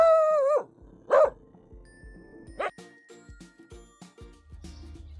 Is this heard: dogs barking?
yes